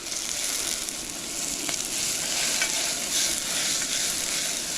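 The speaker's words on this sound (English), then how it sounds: "So we're just going to stir this around, distribute the heat a little bit." Rice stirred in a hot pan for Cuban arroz imperial, cooked without browning: a steady, close sizzle with soft scraping strokes running throughout.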